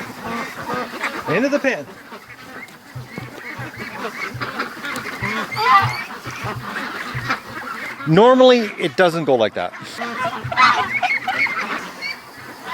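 Ducks quacking and honking as they are herded into a pen at a creek in the morning, a noisy flock close by, with someone talking over the calls throughout.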